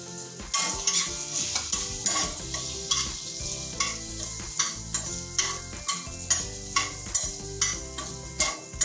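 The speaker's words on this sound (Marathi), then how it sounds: "थोडं मनुक मी भाजून घेते" Raisins roasting in a pan for semolina ladoos, stirred with steady rhythmic scraping strokes over a soft continuous sizzle, close and fairly loud, with no talking.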